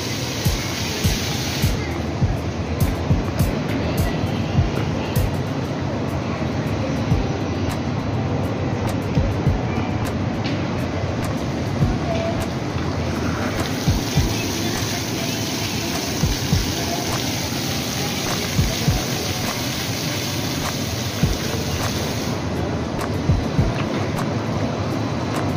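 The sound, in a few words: water fountain in a shopping mall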